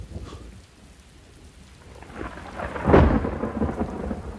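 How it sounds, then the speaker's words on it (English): Rain hisses steadily as a deep thunderclap rumbles in close and loud, swelling from a quiet patter into a heavy rolling crash that lingers under the downpour. "Rain poured down in the south and west country from midsummer to Christmas, scarcely stopping by day and night"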